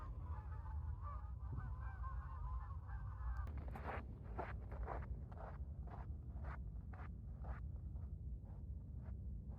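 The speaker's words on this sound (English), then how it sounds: "Look at all the geese flying above Soda Lake." Wild geese honk as a flock flies over Soda Lake near Fallon, Nevada, a steady run of repeated calls starting a few seconds in, above a constant low outdoor rumble.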